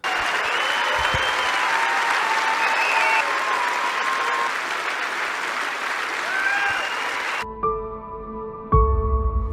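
A crowd in Tulsa, Oklahoma gives a standing ovation, heavy sustained clapping with scattered cheers and voices, cut off abruptly near the end by unrelated sound.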